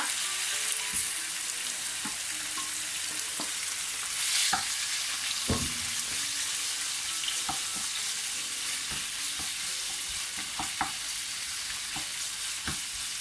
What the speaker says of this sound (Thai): เนื้อหมูปลาหมึกใส่ลงไปพร้อมกันเลยนะคะ